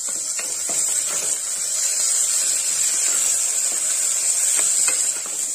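Chopped tomato added to softened onions sizzles in a hot pan, a steady bright hiss running evenly throughout with faint scattered pops and clinks underneath.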